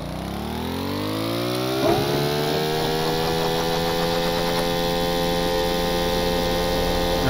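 Engines of a VTOL aircraft in the game Stormworks spin up from idle, a loud droning hum with rising harmonic whine that settles into a steady, sustained roar.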